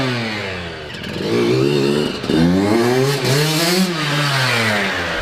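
A Yamaha YZ 125 two-stroke dirt bike engine running after a complete rebuild, revving up and down repeatedly with a loud, close, buzzing, rising and falling pitch.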